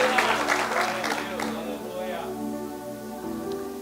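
A church congregation bursts into applause and shouts of praise, loud clapping and cheering at first that thins out, with a sustained tone and voices continuing underneath.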